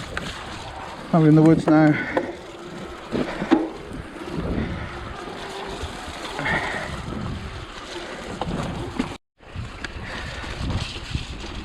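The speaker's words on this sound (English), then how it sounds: "it is so windy" Wind gusting along a woodland trail at the Twrch Trail in Cwmcarn, a continuous rushing buffet against the microphone throughout, with a person talking in the middle of it.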